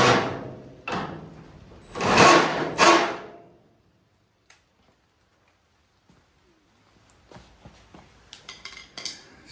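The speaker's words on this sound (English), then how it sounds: "I have to get that with a wrench." A metal wrench clanks and scrapes against a bolt on an old car: a few loud metallic knocks, then quiet, then a run of lighter tool clinks and rattles nearby.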